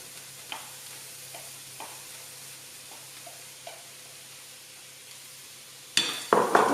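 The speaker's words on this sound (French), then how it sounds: "on va mettre les 3/4 du poivron pendant un quart d'heure dans la poêle" Bell pepper cooking in a frying pan, a soft steady sizzle with a few light stirring scrapes and taps, then louder clattering and frying bursts toward the end.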